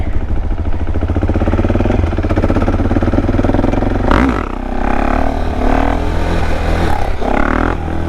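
A KTM Duke 690 motorcycle engine runs at a steady, loud drone close by, then surges in a sharp rev around the midpoint and keeps pulsing through uneven throttle blips.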